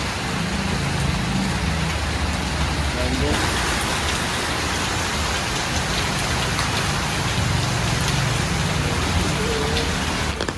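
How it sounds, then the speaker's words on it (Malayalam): Heavy rain pours down steadily and loudly for the whole stretch, a dense continuous roar of drops with a faint vehicle passing and a hint of voices beneath. "ഭയങ്കര മഴയാണല്ലോ."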